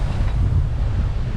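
Steady, low rumbling wind buffeting the microphone on a sailboat at sea, with a rushing roar throughout and no voices.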